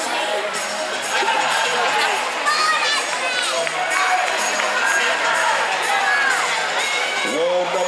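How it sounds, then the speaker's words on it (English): Crowd shouting and cheering trackside at a BMX race, a dense steady wall of excited voices with high whoops and shrieks, loud and sustained throughout. "A big shout from the crowd for somebody there."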